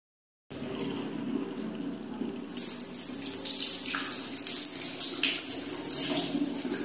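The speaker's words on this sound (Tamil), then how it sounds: "எல்லாத்தையுமே தேய்ச்சி எடுத்ததுக்கப்புறம் இதை வந்து தண்ணி ஊற்றி கழுவிக்கிறேன்." Water poured to rinse scrubbed bathroom tiles and a sink, a steady rushing splash that swells louder partway through and keeps running without any talk.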